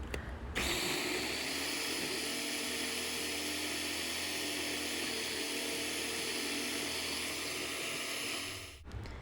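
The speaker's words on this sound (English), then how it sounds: "Now I'm going to add my black beans back into my food processor and blend those back up." Cooked black beans whirring in a food processor for brownie batter, a loud steady motor drone starting abruptly and running nearly nine seconds before cutting off.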